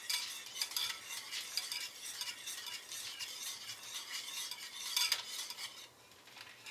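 A spoon stirs a keto cookie mixture, a cream-and-butter caramel base, in a pot on the stove, scraping and clinking in steady repeated strokes with a faint sizzle beneath, close and fairly quiet, with no talking.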